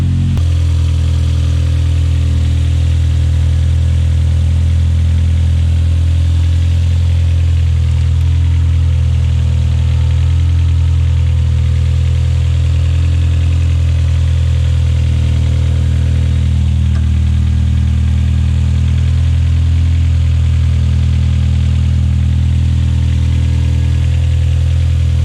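A turbocharged Toyota Starlet 4E-FE engine idles steadily and loudly after a test start, a close, continuous low rumble with no talking.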